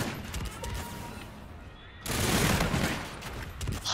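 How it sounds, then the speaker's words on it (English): Rapid automatic gunfire in a first-person shooter game, dense bursts that jump sharply louder halfway through and keep rattling without pause; no talk in between. "He shot me around the corner."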